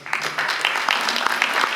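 Applause from a convention audience in the UK, steady and fairly close, with scattered individual claps standing out through a short burst.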